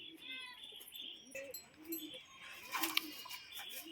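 A male pigeon coos softly among other birds in a loft, with short chirps and low rustling, fairly close but quiet.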